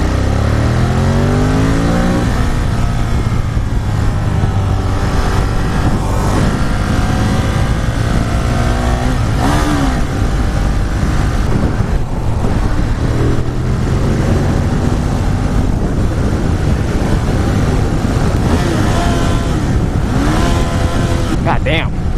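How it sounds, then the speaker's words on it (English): A Ducati Monster 1200R motorcycle engine revs up and down repeatedly through the gears, loud and close, with rising and falling pitch throughout. "this is a bigger engine motorcycle"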